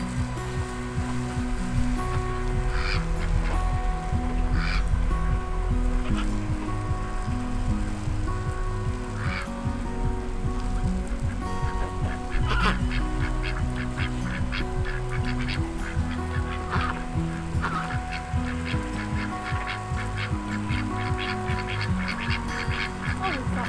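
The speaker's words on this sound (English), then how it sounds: "So the ducks seem to be doing alright." Ducks kept in a backyard pond during a summer heatwave, with loud goose-like honking and quacking calls repeating throughout against steady background noise, no talk.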